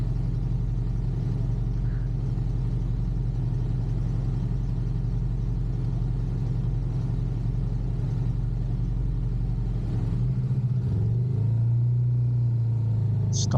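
Stop-and-go road traffic in Leicester, UK, heard from a moving motorcycle on a hot day: a continuous low engine drone and rumble, with a rising engine note near the end.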